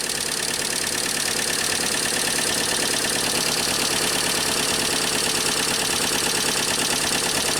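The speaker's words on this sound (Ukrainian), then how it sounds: "Плювання немає, працює всі 4 циліндри." A repaired VW Bora engine idles steadily on all four cylinders, a close, even, continuous mechanical chatter with a fine ticking rhythm and no voices.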